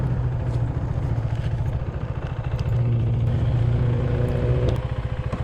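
Husqvarna Vitpilen 401 motorcycle ridden along a mountain road, a loud, close, steady engine buzz with pitch shifting as it rises and falls through the revs.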